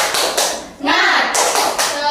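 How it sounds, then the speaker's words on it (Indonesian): Schoolchildren in an elementary classroom do a rhythmic group spirit clap, several bursts of unison clapping close by, mixed with children's voices calling out together. "Ayo tepuk semangat."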